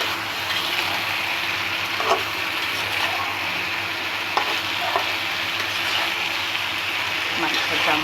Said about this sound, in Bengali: আমি ঢাকনাটা খুলে আবার দেখে নাড়িয়ে দিচ্ছি, নিচে না লেগে যায়।